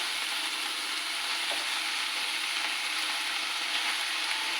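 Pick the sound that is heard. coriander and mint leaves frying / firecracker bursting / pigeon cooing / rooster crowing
coriander and mint leaves frying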